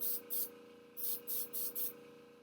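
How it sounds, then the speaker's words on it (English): An airbrush sprays paint onto skin for cosplay body painting in short, close hissing bursts, about six quick sprays with brief pauses between them, over a faint steady compressor hum. "when you're airbrushing yourself"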